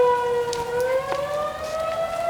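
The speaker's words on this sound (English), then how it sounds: "The sirens are going off right now." Civil defense tornado warning sirens wailing across south Dallas during a storm, a sustained rising tone carried from a distance with overlapping distant sirens and light background noise.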